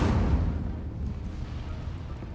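Incendio fire spell cast in the video game Hogwarts Legacy, a single fiery burst at the start that fades into a low rumbling tail, fairly quiet overall.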